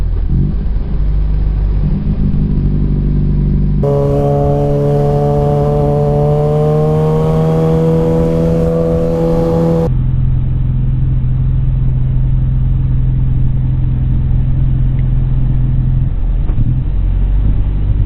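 A motorcycle engine idles with a steady low rumble, then revs up through several rising pitch sweeps as it shifts from first to second to third gear, before settling back to a steady drone; loud and close throughout.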